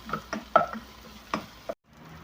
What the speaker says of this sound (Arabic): نقلبهم بقى مع بعض لما احس ان اللحمه اتشوحت خالص مع البصل بقى